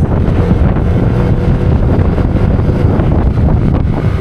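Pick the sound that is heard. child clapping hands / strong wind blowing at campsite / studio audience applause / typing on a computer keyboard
strong wind blowing at campsite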